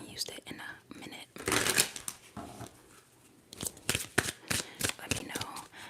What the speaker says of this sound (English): I really want to shuffle this deck.